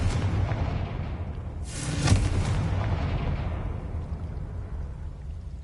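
Confringo fire spell from Hogwarts Legacy bursting with a single deep boom about two seconds in, rising out of a rumbling game ambience that keeps rolling afterward, with no voices.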